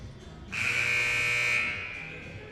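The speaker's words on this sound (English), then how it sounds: "Warning buzzer sounds." A loud, steady electronic buzzer blares for about a second over faint crowd noise in a gym during a high school basketball game, then cuts off.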